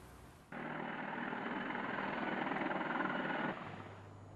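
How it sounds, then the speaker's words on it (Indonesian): A military helicopter's steady rotor whine and engine roar cuts in abruptly, holds loud and even for about three seconds, then stops. "Rusia merilis rekaman gambar helikopter militer yang diambil bagian dalam operasi militer khusus di Ukraina."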